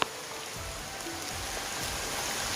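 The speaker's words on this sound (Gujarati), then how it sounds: "જો પાછો વરસાદ ચાલુ થઈ ગયો" Rain falls outdoors on a village road during a motorbike trip, a steady, fairly loud hiss of drops with no voices and no breaks.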